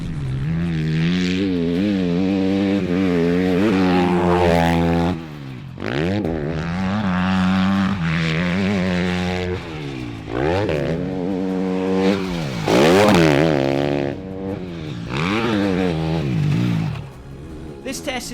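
A Kove 250 Chinese dirt bike laps a motocross track, its single-cylinder engine revving hard and close, rising and falling through gear changes with brief lifts between bursts of acceleration.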